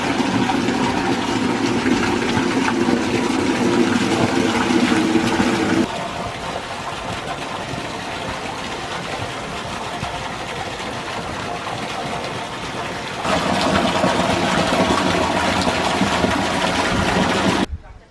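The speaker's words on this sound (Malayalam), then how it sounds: "ഇനി നമ്മൾ വെള്ളം ഫൈനലായിട്ടുള്ള വെള്ളം റീഫിൽ ചെയ്യാൻ പോവാണ്." A water pump refills a round fish tank, a steady motorised hum with gushing water running throughout, louder at the start and again near the end, with a quieter stretch between.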